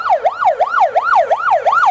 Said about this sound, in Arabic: عمي عندك اسعاف انت؟